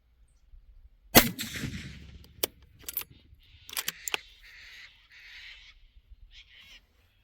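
A single loud, sharp rifle shot from a Howa Superlite .308 fitted with a red dot sight cracks out and decays, followed by sharp clicks and faint chirping in quiet outdoor surroundings.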